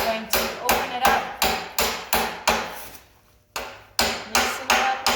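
Repeated heavy hammer blows hammering open an electric paint sprayer filter, about a dozen sharp metallic strikes in a steady rhythm with one brief pause, loud and close.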